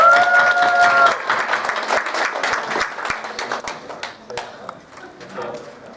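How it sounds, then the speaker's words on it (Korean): A church congregation at a Sunday worship service claps together, loud and dense at first and then thinning out into scattered claps, with voices talking over it. "우리 박수 한번 치겠습니다."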